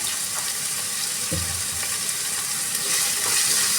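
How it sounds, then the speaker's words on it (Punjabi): Tomatoes with salt cook in a pan for a paneer and pea bhurji, giving a steady close sizzling hiss with a soft clunk partway through. "ਹਲਕੇ ਜਿਹੇ ਟਮਾਟਰ ਪੱਕਦੇ ਨੇ"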